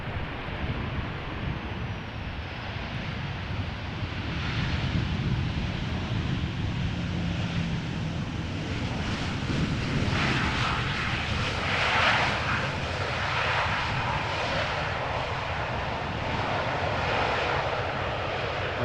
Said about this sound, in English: Delta A330, making its way over here.